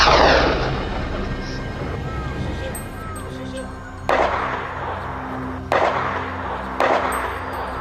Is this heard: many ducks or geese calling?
no